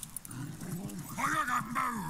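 A hunter's dog in the video game Last Day of June, sounding as low growling or whimpering tones close by, repeated through the clip under a steady game soundscape.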